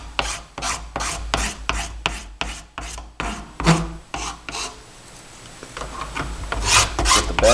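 A file works over a plastic kusari-gama training weapon in quick, rhythmic rasping strokes, close and loud, then slower, softer scraping follows.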